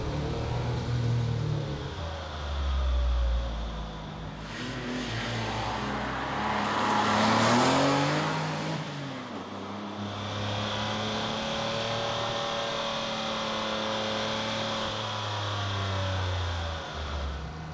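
A sports car with sequential twin turbos and a six-speed gearbox accelerates hard, its engine note climbing loud and close through the revs, with a surge as the second turbo comes in around 4800 rpm, no talking.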